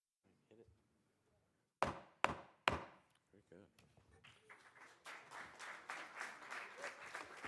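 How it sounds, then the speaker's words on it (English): Three loud gavel strikes crack at a city council meeting, followed by a crowd of people starting to clap, the applause building steadily, with faint talk before the strikes. "we now get applause based upon how loud the gavel hits the..."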